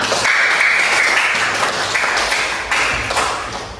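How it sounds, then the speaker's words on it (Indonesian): Hands clap together in a lesson setting, a run of fairly loud, close claps blended with sustained tonal background sound that fades slightly toward the end. "tepuk tangan untuk kita semua."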